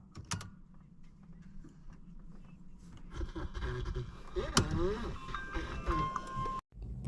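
A Mercedes W203 car's electronics power up after its loose battery terminal is tightened, giving a string of electronic chimes and beeps with mechanical clicks, rising in loudness, while people talk over it.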